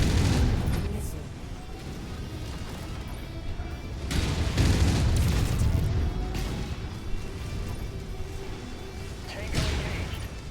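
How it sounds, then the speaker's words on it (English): Video game missile explosions erupt in a few heavy crashing bursts with gunfire-like crackle between them, loud and close, while a voice talks over the combat. "Incoming missile."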